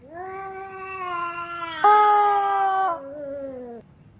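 A cat yowls while fixated on a dog, a drawn-out tonal caterwaul that swells louder in the middle and then slides lower before trailing off, several seconds long, close and clear with no talk.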